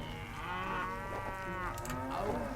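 Cattle mooing in the Stronghold video game: a loud, drawn-out bovine moo with rich harmonics runs through the whole stretch, with a second lowing call rising near the end, no speech.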